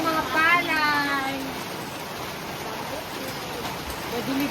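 Steady rain falls at the start of the rainy season, a broad continuous hiss throughout, with a voice speaking briefly at the start.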